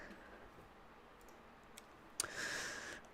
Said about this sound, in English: You hear typing and setups.